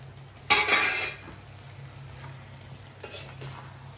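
Dried fish and brinjal curry, with potatoes, gets stirred in a pot, a loud scraping burst near the start and a softer one later over a low steady simmer.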